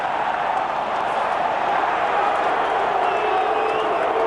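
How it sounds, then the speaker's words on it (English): Rugby test crowd at Eden Park, All Blacks against Australia in 2009, reacting to a knock-on call with a steady, dense roar of voices and cheering that holds at high level throughout. "Well, the crowd don't like it, Foxy, but I think it's a fair call."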